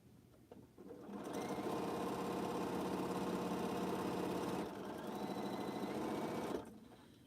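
Sewing machine stitching quilt H blocks, a close, steady motor hum and rapid needle chatter running continuously for several seconds, with a brief dip midway before stopping.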